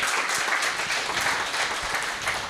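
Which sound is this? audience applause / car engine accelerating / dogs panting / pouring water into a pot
audience applause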